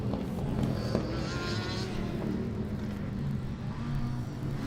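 Formula Student race car number 54 from TU Darmstadt on an autocross lap, its engine a steady continuous drone with a faint rising whine, heard at a distance with no one talking.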